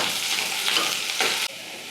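Onion, garlic and ginger fry in oil in a pan for a bamboo shoot bhujiya, making a close, steady sizzling hiss with brief stirring swells before the sound suddenly drops lower.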